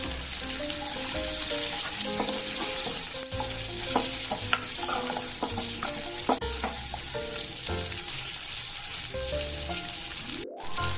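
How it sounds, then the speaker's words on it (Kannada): Paneer cubes roasting in a pan of hot oil, a loud, close, steady sizzle with scraping stir strokes and clinks of a spoon against the pan throughout. "ಸ್ವಲ್ಪ ರೋಸ್ಟ್ ಮಾಡ್ಕೋಬೇಕು ಪನ್ನೀರ್ನ."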